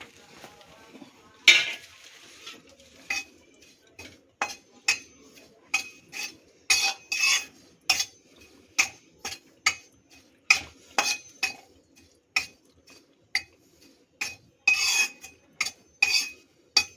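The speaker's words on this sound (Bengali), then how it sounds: "কসুরি মেথিটাকেও ড্রাই রোস্ট করে নিলাম" Kasuri methi dry roasting in a pan is tossed with a utensil, producing a long series of quick rhythmic metallic scrapes and clinks against the pan, close and fairly loud over a quiet background.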